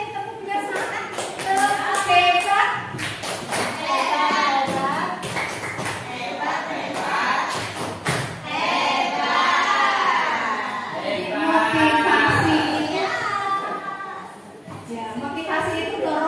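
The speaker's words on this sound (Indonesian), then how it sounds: "Kita kasih tepuk bersama." Group clapping together in a classroom, rhythmic claps from many hands blended with children's shouting and lively chatter throughout.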